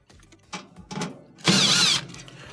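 Two Phillips screws are backed out of a dryer blower housing with a power driver, giving short whirring bursts, then a longer, louder buzz up close, with no one talking.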